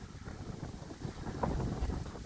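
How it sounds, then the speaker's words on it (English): Gusty hurricane wind from Hurricane Ian buffets the microphone outdoors near fences and backyard trees, a steady low rushing roar that swells slightly midway, with no talking. "here and there the wind picks up"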